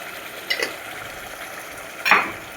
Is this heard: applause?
no